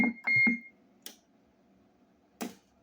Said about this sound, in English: Roger beep.